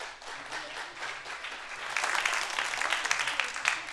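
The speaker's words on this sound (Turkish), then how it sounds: "Alkış alkış alkış." Audience applause during a Turkish comedy performance: a steady wash of many hands clapping at moderate distance, growing slightly louder in the second half with no clear speech.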